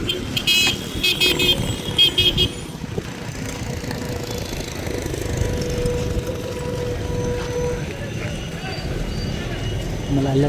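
A bus pulls into Sindhanur bus station, its engine rumbling steadily up close with a horn toot near the start, while people talk over the traffic noise throughout.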